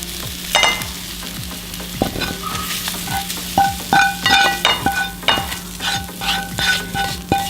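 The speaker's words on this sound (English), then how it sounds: "The eggs are still cooking fine." Eggs frying in a pan for breakfast fried rice, stirred with a utensil: a steady loud sizzle with rhythmic scraping strokes and clinks against the pan, close and continuous with no talk.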